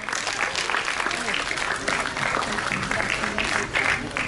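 Audience applause for a school interclass patriotic quiz team, steady dense clapping throughout with a background voice speaking over it.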